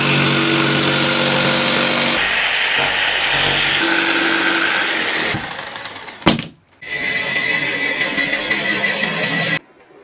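Power tool cutting out a part for a Honda CB600 Hornet scrambler motorcycle build, a loud harsh whine that drops out briefly midway, then resumes steadily before stopping abruptly near the end.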